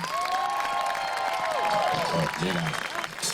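Audience applause and cheering greet a gospel group taking the stage at a rainy outdoor show, a steady crowd roar with a sung or spoken tone running over the top.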